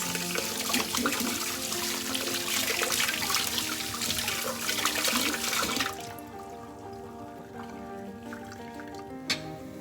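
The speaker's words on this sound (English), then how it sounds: "Wash your hands." Tap water running steadily over hands at a sink for about six seconds, then shutting off, leaving faint room noise and a single small clunk near the end.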